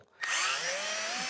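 A power drill with a reverse drill bit bores out the fuel siphon hole on a Mitsubishi Eclipse GSX, starting abruptly after a short pause and whining steadily at close range with no talk.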